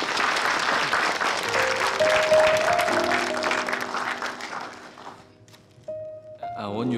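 An audience bursts into applause, a full clatter of hands that fades away over several seconds while sustained musical tones and a voice come through.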